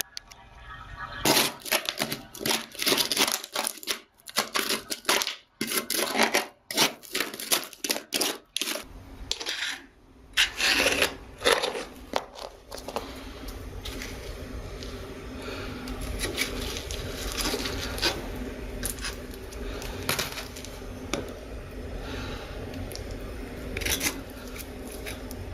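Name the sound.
removing old bathroom floor tile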